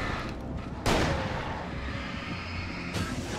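Shotgun blast in Alan Wake, fired amid an outdoor fight: one sharp, loud boom that rings out and decays over a low ambient drone, followed by a second, softer report near the end.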